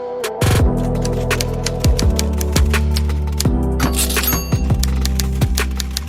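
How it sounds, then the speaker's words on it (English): Typewriter keys strike in an uneven run of sharp clacks, with a couple of brief metallic rings and a carriage-return slide, close and fairly loud. "I have also typewriter sound effect"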